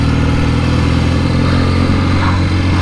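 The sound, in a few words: Norton Dominator 650 SS 1967 motorcycle engine while riding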